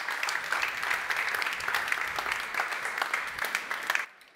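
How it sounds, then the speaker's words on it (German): An audience at a public transport conference panel applauds, steady crowded clapping at close range for about four seconds before it stops abruptly. "Applaus bitte."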